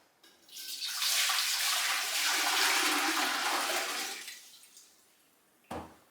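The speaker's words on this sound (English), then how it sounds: "I've actually got this 4 litre of water. I'm going to put this in our pot." Four litres of water pour steadily into a cooking pot for about four seconds, a loud continuous splashing rush that then fades, followed by a brief knock near the end.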